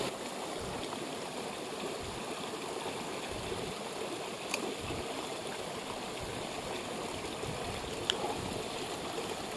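Small mountain torrent in the Hautes Alpes, a steady broadband rush of flowing water close by, constant and unbroken with only faint clicks on top.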